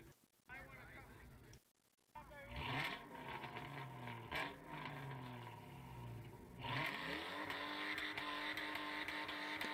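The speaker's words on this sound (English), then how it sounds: "they picked Trent's car to be the only sanctioned burnout." Trent's car does the only sanctioned burnout at a car meet. The engine revs hard in repeated rising and falling sweeps, with a sustained roar and tire noise, and voices are heard over it.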